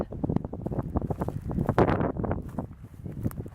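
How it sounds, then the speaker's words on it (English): Wind gusts through a wheat field outdoors, a rough, fluttering rush buffeting the microphone in uneven pulses that swell midway and then ease off. "let's wait for the wind"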